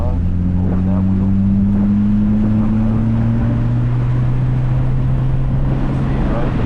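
A Subaru WRX engine on the Harris Hill race track pulls hard in a steady, loud drone as it accelerates, its tone rising gradually under heavy wind and road noise.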